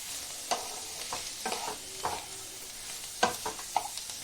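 Shredded cabbage is stir-fried in a pan, a low steady sizzle broken by periodic scraping strokes of a spatula about every half second to second, close up and with no talking.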